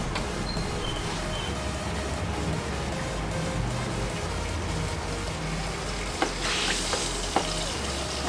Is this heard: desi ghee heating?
yes